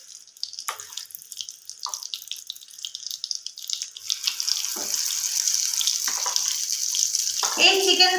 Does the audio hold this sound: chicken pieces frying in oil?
yes